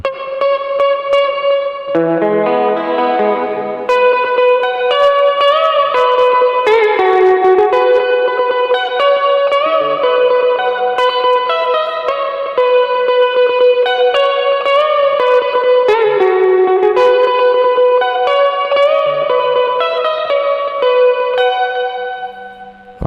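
Electric guitar solo played through compression, tube overdrive, delay, chorus and a lush hall reverb, sustained melodic lines ringing out loudly and continuously with a washed, spacious tail.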